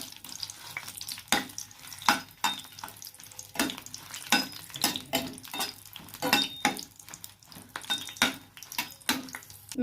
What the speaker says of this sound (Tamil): இப்போ இது எல்லாத்தையும் போட்டு ஒன்று ஒன்றா நம்ம எண்ணெயில் வறுத்து எடுத்துக்கலாம்.